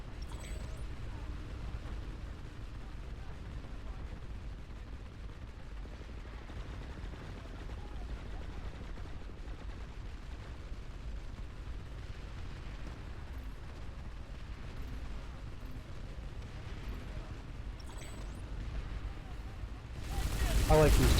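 Gunfire in the online shooter Planetside 2, a steady wash of distant shots and explosions running throughout, with a louder burst right at the end. People talk over it.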